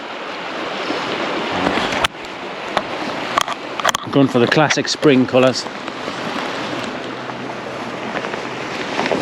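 The River Findhorn, running high, makes a steady broadband rush of flowing water, with someone talking briefly over it midway.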